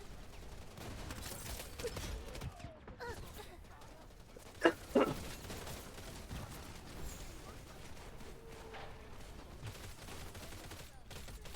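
Gunfire in the shooter game Wild Assault: quiet, sporadic shots and short bursts, sharpest around the middle, over a low background with faint voices.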